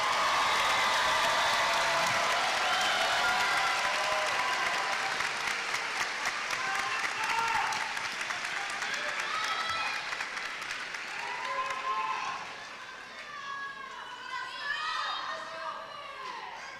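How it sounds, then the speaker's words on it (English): A crowd applauds graduates at a University of Houston–Victoria commencement ceremony. Loud, sustained clapping fills the hall, then slowly thins out as cheers, children's voices and crowd chatter rise underneath. "Let's give our graduates another round of applause."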